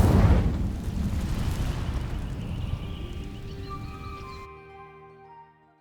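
Incendio fire spell setting dry vines alight in Hogwarts Legacy, a loud whooshing burst up front that trails into a crackling roar and fades out over several seconds, ending with faint magical tones.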